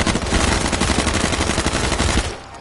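Gunfire in the survival shooter H1Z1 crackles as a dense, rapid burst of shots, loud and close, running almost without pause before cutting off near the end.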